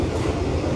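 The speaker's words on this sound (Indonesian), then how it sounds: "Sekarang aku sudah ada di kereta makannya kereta api Argo Bromo Anggrek." Steady loud rumble and rolling rail noise inside the dining car of the Argo Bromo Anggrek executive train while it runs, a continuous low roar with no voices.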